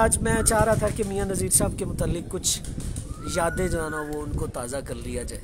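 Pigeons coo softly in the background beneath a close, continuous conversation between men.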